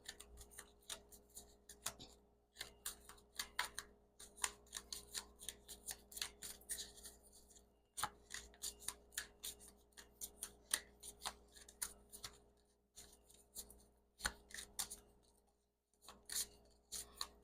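Rapid, crisp riffling and flicking of cards being shuffled, repeated in quick bursts with brief pauses, close by and without talk.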